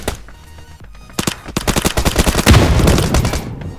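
Rapid bursts of Thompson and M4 automatic gunfire in the PUBG: New State mobile game, loud and close, starting with a few single shots and building into dense continuous rattling fire.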